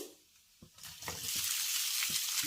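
Farali muthiya dropped into a sesame and curry leaf tempering, a few soft stirring knocks followed by a sudden rise into steady loud sizzling.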